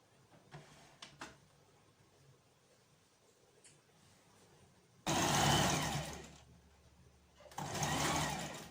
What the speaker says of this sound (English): I'm sewing on the lines I made out.